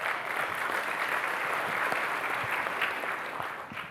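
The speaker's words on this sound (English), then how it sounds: "Give yourselves a round of applause for a great event." Warm applause fills a room at a business talk event, many hands clapping in a dense, steady wash that holds level and tapers slightly toward the end.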